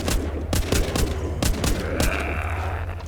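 Gunfire in the zombie survival game The Walking Zombie 2: a rapid string of sharp, loud shots in quick bursts, about a dozen cracks in three seconds, followed by a lingering ringing tail.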